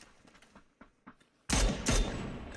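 Rapid gunfire from a video game erupts loud and close as a sustained burst of overlapping shots, preceded by a few fainter scattered pops.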